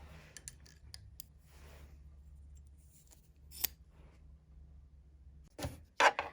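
Scissors snip through folded fabric for a reusable gift bag, a few soft, close blade clicks and rasping cuts with quiet pauses, ending in a sharper burst of cutting near the end.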